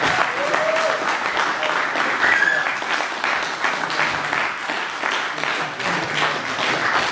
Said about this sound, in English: Let's give one more huge round of applause to Matt Keller